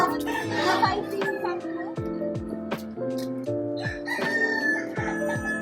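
A rooster on a farm crows repeatedly in long harmonic calls, with other fowl clucking and sharp percussive knocks in the background.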